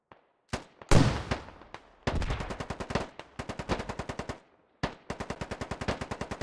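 Rapid bursts of automatic gunfire from HEAT rounds in a military shooter video game, several sharp strings of evenly spaced shots broken by short pauses, close and punchy, with no voices.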